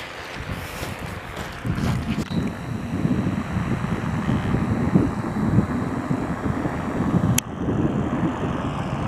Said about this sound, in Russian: Кто-то летает, в общем, на своем параплане. С моторчиком.